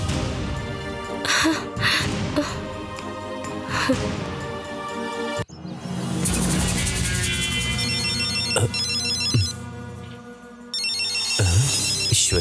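A phone ringtone plays a repeating melodic ring, loud and close, continuing across the clip with a brief gasp or sigh mixed in.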